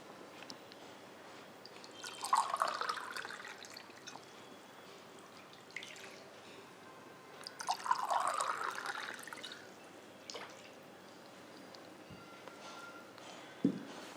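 About two and a half glasses of water poured into a pan for making a snack, soft trickles and splashes coming in a few separate bursts, fairly quiet.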